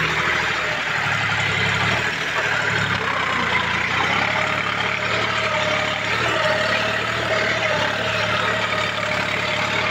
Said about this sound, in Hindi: 1500 आरपीएम पे चल रहा है ट्रैक्टर।